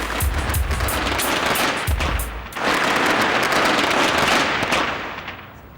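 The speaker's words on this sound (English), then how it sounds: "Here it's traditional for young people to set off firecrackers on the 14th of July." Rapid strings of firecrackers crackle and pop nonstop in a French suburb on Bastille Day, dense loud bursts with a few heavier bangs early on, then fading toward the end.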